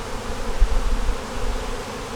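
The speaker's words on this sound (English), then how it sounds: "Get all these bees back in the house so we don't have to worry about squishing" Honeybees drone steadily around a beehive on a calm, warm day, a continuous low buzz that swells briefly in the middle, with no voices.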